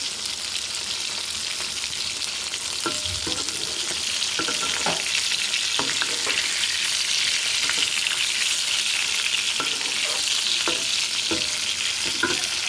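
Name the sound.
sautéing chicken curry with eggplant in a pan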